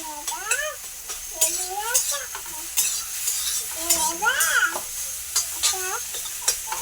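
An egg fries in a hot pan as a utensil stirs and scrapes it, giving a steady sizzle with repeated clinks. A voice and other voices come and go over the cooking.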